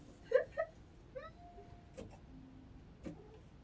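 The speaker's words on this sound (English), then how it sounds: "Kitty." A cat meows indoors, a couple of short soft mews followed by a longer drawn-out call, fairly close but quiet, with a few faint clicks and rustles in the background.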